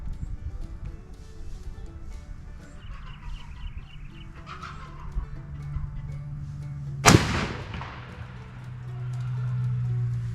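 A single sharp, loud rifle shot from a World War I–era gun fired at a deer, cracking out alone and leaving a short decaying echo over quiet outdoor background.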